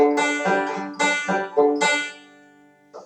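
A plucked string instrument plays a quick repeating backward roll pattern, bright notes ringing in clusters with short gaps, ending on a lone soft pluck.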